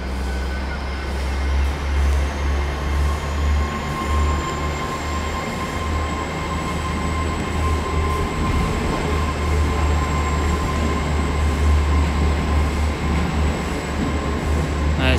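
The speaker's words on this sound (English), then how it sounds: "we got the Greater Eastern Railway service to Plymouth now leaving on time" A Great Western Railway service to Plymouth pulls out of Exeter St David's station. A loud, steady engine rumble and rolling wheel noise continue throughout, with a faint rising tone above them and no speech.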